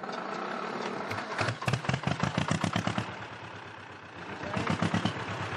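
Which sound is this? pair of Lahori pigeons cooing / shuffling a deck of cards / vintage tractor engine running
vintage tractor engine running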